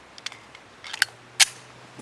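A Tisas Regent BR9 pistol fires 124 grain Blazer aluminum-case full metal jacket rounds, with a few sharp cracks spread over two seconds and the last one loudest, each dry snap fading quickly.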